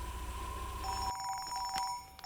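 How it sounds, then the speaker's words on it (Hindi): A telephone rings with a steady electronic bell tone, two clear rings close and alone before cutting off, in a Hindi-dubbed film scene. "फोन आ गया"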